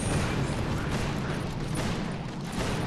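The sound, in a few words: cannon fire in the video game Boom Beach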